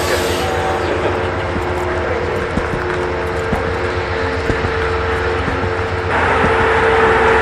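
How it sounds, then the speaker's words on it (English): A passenger train rumbles alongside a station platform, a steady heavy rolling drone with faint clanks from the cars, swelling slightly louder toward the end, with no talking. "I always have the anxiety of just watching the train pull away from me."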